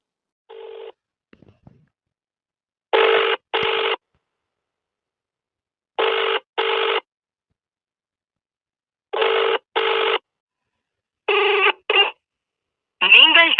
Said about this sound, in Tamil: அஜய்க்கு ஃபோன் பண்ணி பார்ப்போம